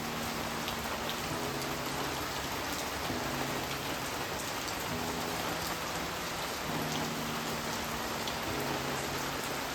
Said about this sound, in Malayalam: നല്ല മഴ കേട്ടോ ഇവിടെ